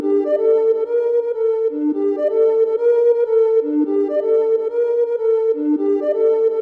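Trap melody from a New Future Trap Volume 2 one-shot kit: a clean synth-like lead repeating a short looping phrase of sustained tones, loud and close, with no drums or voices.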